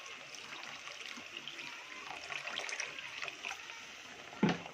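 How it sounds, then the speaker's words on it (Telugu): Water poured steadily into a pan of vermicelli for carrot semiya kheer makes a soft, continuous trickle and splash, with a brief louder knock near the end. "మనం ఇందులోకి వాటర్ వేసేసుకోవాలి"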